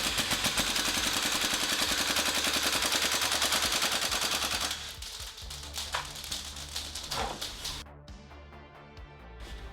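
A GHK AKM V2 gas blowback airsoft rifle running on propane fires a long rapid burst through a magazine, loud and close with a fast mechanical clatter, then scattered shots and clicks as it runs dry.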